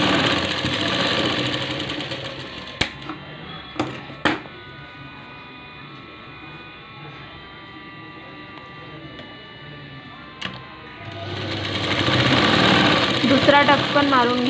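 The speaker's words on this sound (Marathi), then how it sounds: "टक्सवर नेहमी डबल शिलाई मारायची।" A sewing machine stitches a double line along a half-inch tuck on a blouse, its rapid mechanical whir running at the start and again at the end, with a few clicks and a quieter pause between.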